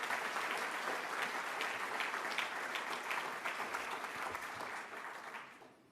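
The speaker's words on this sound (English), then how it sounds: "Please give them a round of applause." A town hall audience applauds disaster prevention coalition leaders, a continuous wash of many hands clapping, somewhat distant and quiet, gradually tapering off at the end.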